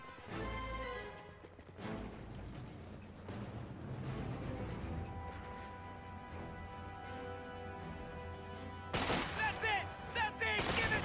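Gunfire crackles through a tabletop-style wargame battle, scattered rifle and machine-gun bursts layered over a low rumble and game music, with a louder cluster of shots near the end.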